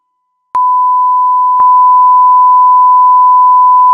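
A steady pure test tone, loud and unbroken, starting abruptly with a click and then getting a little louder after a second click as a copy of the wave shifted three-quarters of a wavelength joins it.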